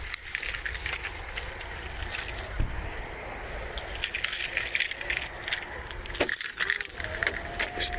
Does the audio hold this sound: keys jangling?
yes